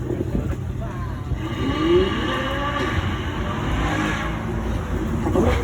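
A 6.5-litre V12 Ferrari 812 drives by at Beaulieu, its engine note rising and swelling as it approaches and passes, with a voice talking over the roar.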